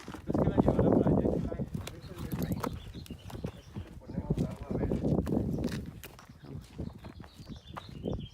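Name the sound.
horse walking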